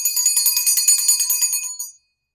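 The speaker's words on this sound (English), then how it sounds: "My mom's bell." A small hand bell rings steadily in quick, bright repeated strikes for nearly two seconds before stopping, clear and close with no talking over it.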